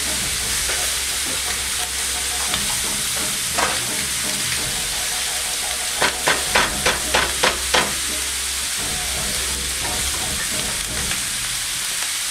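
Kielbasa, peppers and onion sizzle and fry in a cast iron pan, a loud steady hiss with a burst of clacking stirring strokes partway through.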